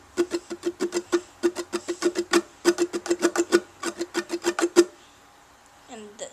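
A ukulele strums a song's strumming pattern at full speed, a steady rapid train of bright down-up strokes, close and even, stopping just before a short trailing sound.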